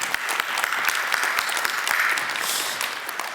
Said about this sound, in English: I think Tamas and Sarah need a stronger round of applause